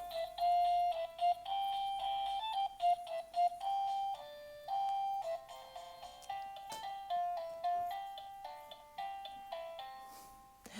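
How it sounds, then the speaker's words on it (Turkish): A yellow Bondigo toy elephant plays a tinny electronic melody of short, bright beeping notes in a bouncy rhythm when its belly is pressed, fairly quiet and close. "Hadi açıp bir melodilerini dinletelim size."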